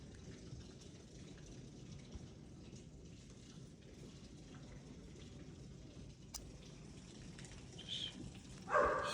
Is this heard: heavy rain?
yes